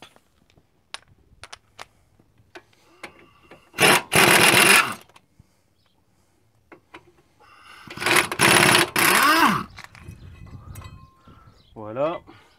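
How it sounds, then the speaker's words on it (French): An impact wrench works on a car wheel in a workshop, firing two loud buzzing bursts of a second or so each, separated by quiet clicks and handling noises, with a short whirring rattle near the end. "je vais essayer de mettre un coup de clé à choc"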